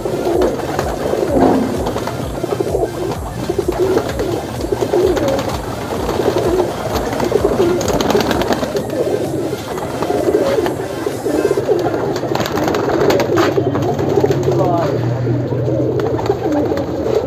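Pigeons kept on a village rooftop coo steadily in a close, busy chorus of overlapping low, throaty calls, with wing flutters and rustling throughout.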